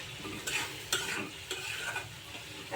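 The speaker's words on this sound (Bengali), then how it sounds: "এটা কষানোর মধ্যে আলু পেঁয়াজ রসুন কাঁচামরিচটা মানে মোটামুটিভাবে সিদ্ধ হয়ে যাবে একটু নাড়াচাড়া করে নিব" Potatoes, onion, garlic and green chili being stirred in a pan for a spinach dish, with soft sizzling throughout and a few distinct scraping strokes of the spoon at regular intervals, close and fairly quiet, no talking.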